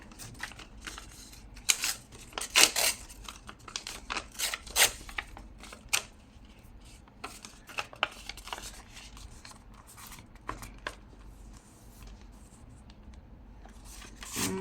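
A paper scrap is torn by hand at a crafting table, heard as a string of short, crisp ripping and crinkling bursts scattered unevenly over quiet room sound.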